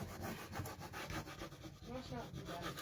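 Rubbing a rub-on transfer onto a wooden sign produces steady, close, quiet scratchy friction in quick repeated strokes, with no talking.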